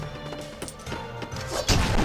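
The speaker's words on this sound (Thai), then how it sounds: "ทำลายเลโก้นี่ทำลายตัวเลโก้ว้าว้าว้า นี่ทำลายของเล่น" Lego objects break apart in the Wii game Lego Pirates of the Caribbean, a quick run of crashing, clattering smashes that builds to a louder burst at the end over game music, no one talking.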